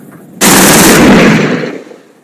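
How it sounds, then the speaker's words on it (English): A sudden, loud burst of Spitfire machine-gun fire in a flight simulator roars for about a second, then trails off into a fading rumble. "Top button is for machine guns."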